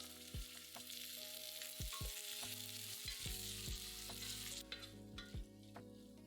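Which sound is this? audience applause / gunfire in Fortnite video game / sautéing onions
sautéing onions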